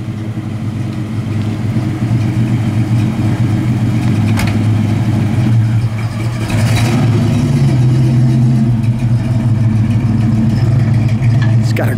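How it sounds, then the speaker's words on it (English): A 1969 Chevelle convertible's V8 rumbles through dual exhausts, a steady low idle that swells into a louder rev partway through, close to the microphone with no talk over it. "Got a great dual exhaust rumble to it too."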